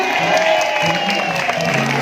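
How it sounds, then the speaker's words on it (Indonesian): Audience at a live indoor gathering clapping steadily and loudly throughout, a continuous wash of applause with voices mixed in. "boleh minta tepuk tangan buat Umiyu."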